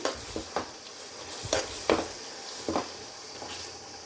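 A spoon stirs crushed garlic into gongura leaves cooking in an oil-filled pan, with soft scraping strokes and brief clinks against the pot over a low, steady sizzle.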